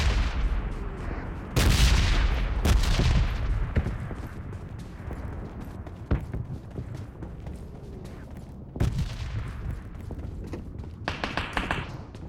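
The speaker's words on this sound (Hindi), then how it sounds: "मेरे पे शॉट्स थे ये वाले।" Gunfire in the PUBG video game, with bursts of loud, rapid shots and single cracks over a busy in-game background, some bursts near and some more distant.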